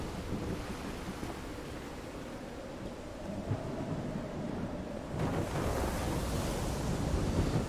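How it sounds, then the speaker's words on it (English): A thunderstorm in the video game Call of the Sea gives steady heavy rain with a deep rolling rumble of thunder, loud and continuous, building a little louder toward the end. "I'm quite scared of storms"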